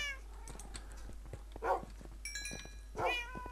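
Several Minecraft cats meow in turn, a horde of short, overlapping mews and purring trills spread across a few seconds over quiet clicks and game noise.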